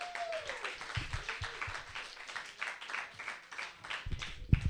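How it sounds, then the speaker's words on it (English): Scattered clapping from a stand-up comedy audience with cheering, uneven and moderately loud, building briefly near the end. "Put your hands together for my friend."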